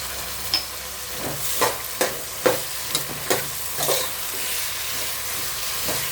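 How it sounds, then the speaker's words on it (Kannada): Tomato, mixed vegetables and ginger-garlic paste frying in oil, a soft steady sizzle broken by several sharp stirring scrapes in the first few seconds, then a quieter hiss. "ಇದಿಷ್ಟು ಈಗ ಆಯಿಲಲ್ಲಿ ಚೆನ್ನಾಗಿ ಫ್ರೈ ಆಗಲಿ"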